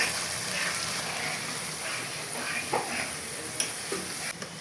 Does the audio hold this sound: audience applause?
no